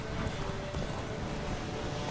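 A horse gallops hard during a race in The Witcher 3, its rapid hoofbeats blending into a dense, continuous rumble with wind and surrounding game noise, steady and close.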